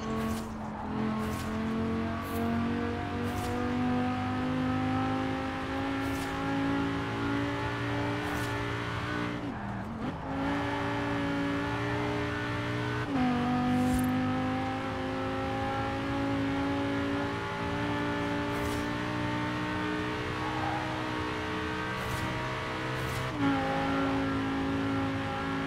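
A Lamborghini Huracan in Forza Horizon 4 drives hard, its engine note climbing through revs and dropping sharply at each gear change, with brief tire squeals along the way. It sounds loud and close throughout.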